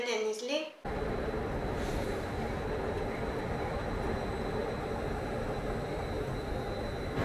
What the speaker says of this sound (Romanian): Și după ne-am urcat în trenul spre Denizli.